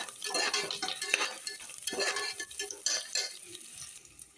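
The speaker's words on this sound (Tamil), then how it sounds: "சின்ன வெங்காயம் நல்லா வதங்கிட்டோம்" Small native shallots sautéing in a pan for mutton kuzhambu, with a spoon stirring and scraping through them over a light, steady sizzle; close and moderately loud, no talking.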